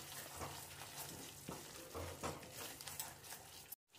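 Masala mixed with yogurt fries in oil in a pan, a steady close sizzle with soft stirring scrapes throughout, breaking off abruptly at the very end.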